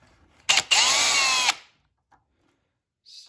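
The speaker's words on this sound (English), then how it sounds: "See if I can do it with the drill." A power drill spins briefly to remove the step motor mount screws on a GP1200i carburetor, a loud close whine lasting about a second after a short blip, followed by quiet with faint small clicks.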